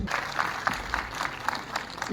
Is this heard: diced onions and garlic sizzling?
no